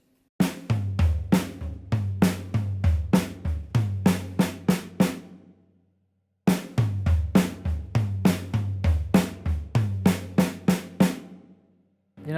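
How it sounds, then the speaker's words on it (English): A drum fill is played twice, with snare accents and rolling hits across the rack tom and floor tom: a quick run of loud, close strikes, a short pause, then the same fill again. "So what we're aiming for is for our drum fill to sound something like this."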